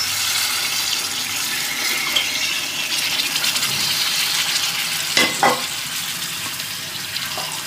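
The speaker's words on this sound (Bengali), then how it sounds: "গরম জল দিয়ে দিচ্ছি আমি।" Hot water going into a pan of chili chicken, a steady hissing sizzle with light stirring and a couple of sharp clinks near the end, no one talking.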